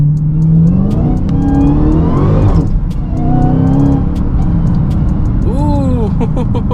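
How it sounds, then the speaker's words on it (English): A 2022 Dodge Hellcat with a supercharged engine in track mode, pulling hard under acceleration: a loud, close roar climbing through the gears with supercharger whine, interrupted by a brief shift, while people talk over it. "Let's get you guys a quick pull so you guys can hear this supercharger"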